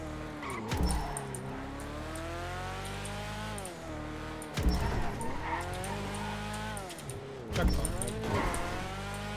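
A fast car in GTA 5 races by with engine roar rising and falling in repeated gear sweeps and brief tire squeals, steady and fairly close, with someone talking over it.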